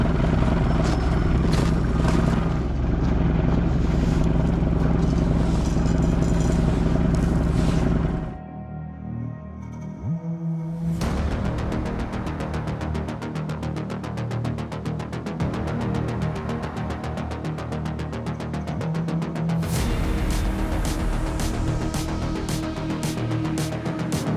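A Mercedes-Benz W124 with a worn starter motor runs with a steady throbbing engine drone, drops away, cranks briefly and fires straight back up into an even idle, close and loud.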